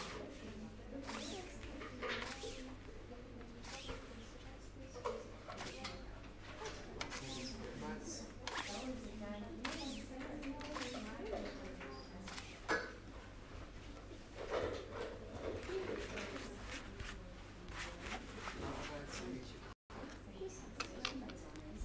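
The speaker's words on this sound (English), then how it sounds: "Shuffle done, we can continue." Baccarat playing cards are shuffled at a live casino table, giving a dense, continuous run of crisp riffling and flicking clicks that carries on steadily, with faint background voices underneath.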